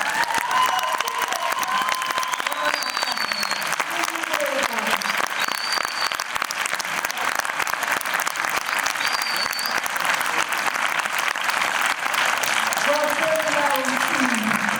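A hall audience applauding at a film Q&A, dense continuous clapping that stays loud and even throughout, with faint cheers and voices mixed in underneath.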